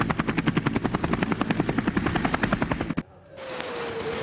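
An army Cobra attack helicopter flies close by, its rotor beating in a loud, rapid, even pulse. The thumping stops abruptly and gives way to a quieter, different background.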